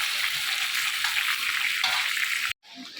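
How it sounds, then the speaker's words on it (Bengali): Meat sautéed in a pan gives a dense, steady sizzle with stirring for a few seconds, then cuts off abruptly into near silence. "মাংসটা এবার কষা হচ্ছে"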